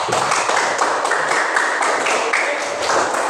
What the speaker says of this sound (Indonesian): Sekali lagi mari kita beri tepuk tangan yang meriah untuk kita semua.